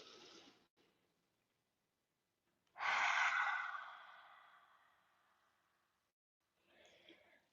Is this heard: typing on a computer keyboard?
no